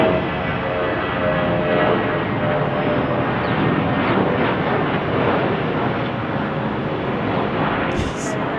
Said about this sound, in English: That was a quick takeoff. Very light flight.